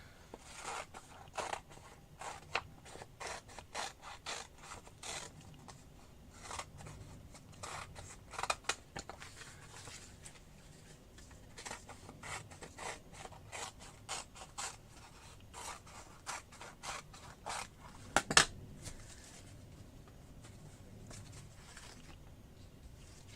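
Scissors trim a paper doll dress design, with many short crisp snips and paper rustles in irregular bursts, close and quiet, plus one sharper crunch near the end.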